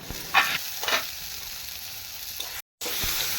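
Steady sizzling of eggplant frying in hot oil, with a couple of louder crackling bursts and a brief moment of silence near the end.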